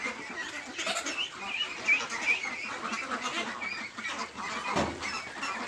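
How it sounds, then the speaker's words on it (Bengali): A flock of farm ducks quacking and chattering busily while being fed, a continuous, moderately close jumble of calls with no talk. "আমার হাঁসগুলোকে এখন খাবার দিয়েছি।"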